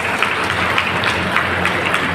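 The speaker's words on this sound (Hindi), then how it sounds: "हम चाहेंगे कि मैडम के लिए सब लोग जोरदार तालियां बजाएं" Loud, continuous applause from a gathered audience at a farewell ceremony, many hands clapping together in a dense steady roar with a few sharper claps standing out near the front.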